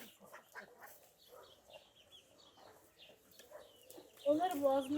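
Chickens on a farm squawk and cluck in a loud burst near the end, after a stretch of quieter background voices and bird calls.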